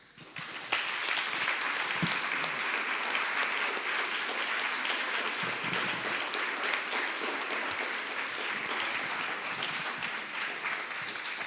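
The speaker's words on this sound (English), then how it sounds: "Thank you for this applause" Conference audience breaking into loud, sustained applause that carries on steadily for several seconds before easing slightly toward the end.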